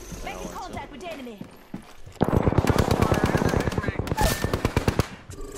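Rapid bursts of Spitfire machine gun fire in the Apex Legends video game, loud and close, with a long rattling volley in the second half and quieter sounds earlier.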